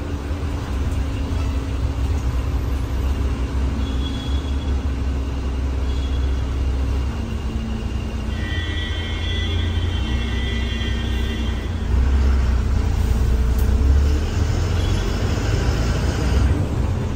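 A new SETC BS6 Vasantham bus drives along an open road without traffic, heard from inside. There is a continuous low engine rumble and road noise that swells slightly toward the end, with no talk.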